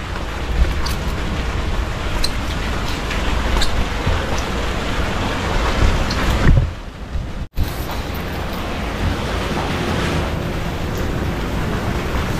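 Steady rain falls outdoors on a slippery path at a hillside resort in Zambales, a broad continuous hiss with a brief dip and sharp break near the middle before the downpour resumes, no talk over it.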